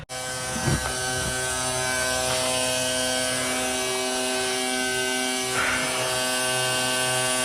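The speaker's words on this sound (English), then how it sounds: "I'm going to simply turn on the pump and pump all this fuel out." A homemade electric pump transferring diesel fuel at an automotive fueling setup hums steadily and loudly with a constant electric buzz throughout, never pausing.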